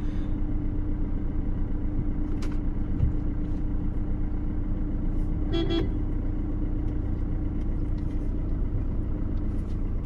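A 2019 Maruti Ertiga 1.5 L diesel rolls along on a test drive, its engine giving a steady, close, low rumbling drone throughout, with a brief faint horn toot and small knocks over the cabin hum.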